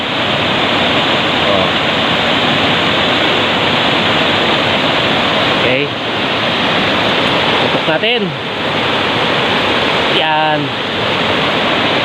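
Rushing water of Tili Ti Nuang waterfall pours down among large boulders in a forest, a loud, steady broadband roar that fills the whole clip, with a few brief spoken interjections and footsteps on a hanging bridge over it.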